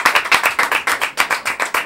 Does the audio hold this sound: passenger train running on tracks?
no